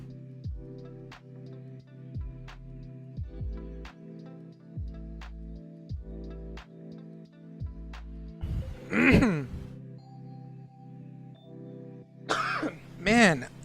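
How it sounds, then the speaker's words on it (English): A man coughs and clears his throat in dry air, two rough clustered bursts late on, after a stretch of sharp, evenly spaced clicks in a quiet room. "the dry air makes me cough so much"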